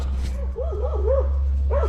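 A dog gives a short, wavering yelping bark close by, over a steady low hum.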